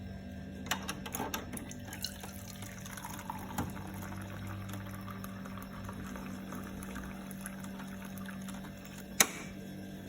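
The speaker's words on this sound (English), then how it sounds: "here is water dispenser that can dispense hot water, the normal water that we use to drink, and the cold water. So now let's dispense one by one." Hot water runs from a drinking-water dispenser into a cup, a soft, steady trickling stream lasting several seconds with a few clicks and clunks from handling.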